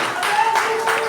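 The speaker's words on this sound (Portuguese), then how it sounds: "Então aplaude ele com bastante força." A congregation at a Baptist church family service claps briefly in a few quick swells while a voice carries over the applause.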